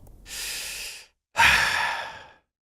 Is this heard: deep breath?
yes